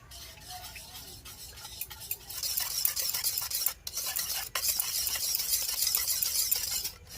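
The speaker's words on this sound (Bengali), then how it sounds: "যেহেতু আমার কাছে হ্যান্ড উইচ আছে সেই জন্য আমি এটা হ্যান্ড উইচ দিয়েই গোলাচ্ছি।" Hand whisk beating chocolate cake batter with two freshly cracked eggs in a bowl, giving a steady, close, scratchy swishing that runs continuously with brief pauses and no talking.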